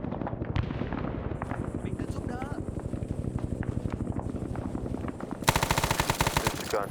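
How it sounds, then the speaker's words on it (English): Artillery shells pound in a Vietnam War video game, a dense run of rapid heavy blasts and gunfire that swells into a louder, sharper barrage near the end, with voices talking underneath. "Yep, nope, that is the artillery."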